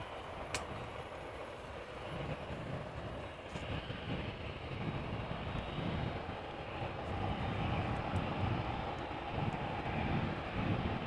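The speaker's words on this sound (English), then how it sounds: "We do have a TUI Dreamliner that was behind it and is coming presumably to the runway threshold to take off." A TUI Dreamliner airliner taxis toward the runway threshold for takeoff at Amsterdam Schiphol, its engines a broad, steady distant roar that swells slightly toward the end.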